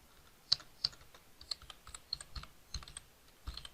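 Fingers type on a computer keyboard in an uneven patter of light key clicks and taps, close and quiet, with short pauses between bursts.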